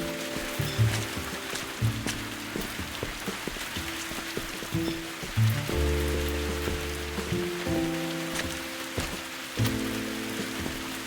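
Steady rain falls outdoors as a constant pattering hiss, mixed with prominent background music playing over it throughout.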